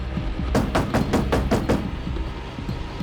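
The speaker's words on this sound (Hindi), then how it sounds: "दरवाजा खटखटाओ।" Knocking on a door, a run of about seven quick, sharp raps in an even rhythm, close and fairly loud over a low steady room hum, with no one talking.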